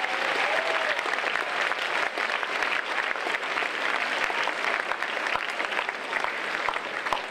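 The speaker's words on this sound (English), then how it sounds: "Can we have a quick round of applause for them?" A school audience gives the tech team a quick round of applause during a mock election debate, a dense, even burst of clapping that stays loud throughout.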